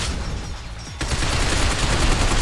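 Sustained automatic gunfire from Binary Domain, a rapid dense rattle that starts abruptly about a second in and keeps going loud and close with no talk.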